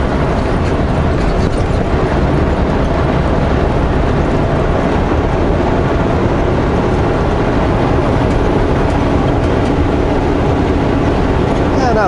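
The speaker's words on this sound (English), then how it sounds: "Yeah, not a super long train." A short freight train led by a Canadian Pacific locomotive with two Union Pacific engines behind, rolling past at Crowsnest Pass near Frank Slide, a continuous loud rumble with clattering wheels on rail.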